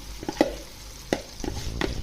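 Red chili, tomato and tamarind chutney is stirred into a hot pan, with a steady low sizzle and a few sharp scraping strokes of the spoon at irregular intervals, close and fairly quiet, with no talking.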